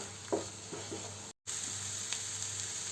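Egg masala being stirred and mixed in a hot pan gives a steady sizzle with a few soft scraping strokes near the start, broken by a brief dropout midway, with no voices.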